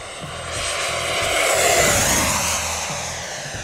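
A radio-controlled FMS FA-18F Super Hornet 70mm EDF jet on its maiden flight roars at full throttle, a steady loud whine of the ducted fan swelling as it passes and fading slightly after.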